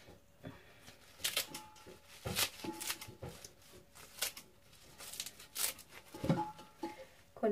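Kitchen scissors snip through stalks of Chinese kale in a home kitchen, producing irregular crisp cuts and rustling leaves, quiet and close, with no talking.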